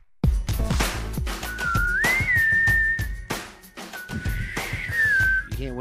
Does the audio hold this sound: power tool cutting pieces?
no